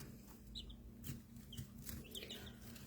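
Young baby chicks chirp and peep in short high bursts scattered across the clip, close by over a steady low hum of a brooder or room.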